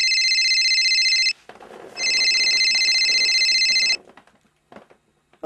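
A telephone rings in two loud, close electronic bursts separated by a short pause, then stops before voicemail picks up, with faint rustling and small sounds afterward.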